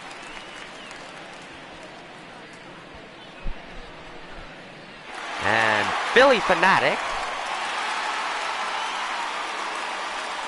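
A virtual stadium crowd at a baseball game, Angels at Phillies in MLB The Show 19, swells into a steady roar of cheering, with a commentator talking over it.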